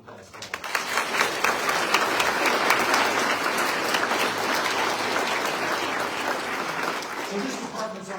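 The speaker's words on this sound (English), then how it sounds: "Please, a round of applause for them" A round of applause from the audience at a fire department recruit graduation and badge pinning ceremony, a dense, sustained wash of clapping that swells quickly and holds steady for several seconds.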